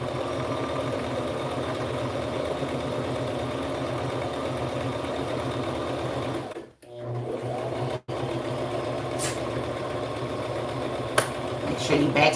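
A sewing machine back stitching while sewing preemie shorts and a hat, running in a steady continuous whir with a brief pause before resuming.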